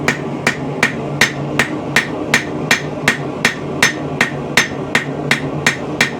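A hammer strikes a hot forged steel leaf-bladed arrowhead to shape its bevel, about seventeen sharp ringing blows in a fast, even rhythm, close and loud.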